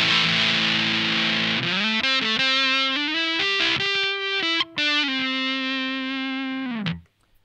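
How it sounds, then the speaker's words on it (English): An electric guitar through a Tym Guitars Seaweed fuzz pedal plays a loud, saturated melodic line of sustained fuzzy notes with a few quick changes, then the last note rings out and cuts off. "the first switch to be aware of is Weed, which is the bypass button to turn the pedal on"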